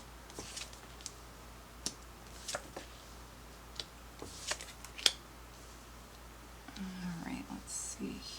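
Everyday Witch Tarot cards are shuffled and pulled by hand, with scattered soft snaps and riffles close by, quiet whispery handling between them, and a louder burst of card shuffling near the end.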